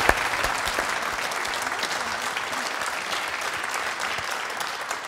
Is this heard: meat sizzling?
no